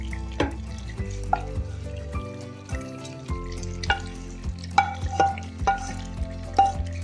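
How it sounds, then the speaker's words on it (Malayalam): Sautéed onions being stirred into a simmering Kerala Angamali-style pork and koorka curry, with scraping spoon strokes against the pot, soft clinks and a gentle sizzle, close and unhurried, with no talking. "നമുക്ക് വഴറ്റിയ സവോള ഇതിലേക്ക് ചേർത്ത് കൊടുക്കാം."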